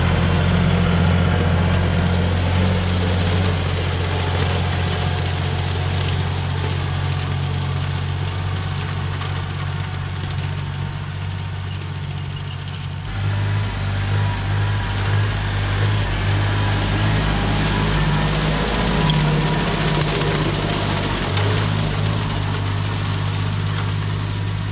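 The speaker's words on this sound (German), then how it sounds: "So, ich bin jetzt an meinem letzten Feld zum Mähen." John Deere tractor mowing a cover-crop field, its engine droning loud and steady throughout with a deep low rumble, heard from the cab with slight shifts in load partway through.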